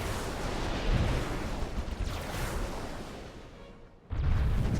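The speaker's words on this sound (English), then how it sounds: "the ships firing while we have these asteroids in the way" Spaceship weapons fire in a Master of Orion space battle near asteroids, a dense rumbling barrage of booms and blasts that dips briefly near the end before a heavy burst resumes, with no voices.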